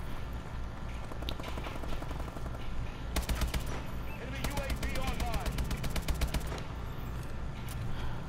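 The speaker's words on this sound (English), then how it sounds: "Oh, I hear those freaking gunshots." Rapid bursts of video-game gunfire from a Call of Duty: Advanced Warfare online match, dense volleys that swell and fade over a constant game soundtrack while a player talks over them.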